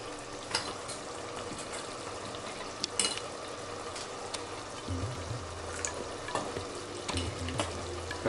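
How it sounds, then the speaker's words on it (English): Millet biryani gravy boiling in a pot with a steady bubbling, frying-like hiss, punctuated by a few sharp clinks and scrapes of stirring, with no voices. "It is boiling. We should keep it stirring"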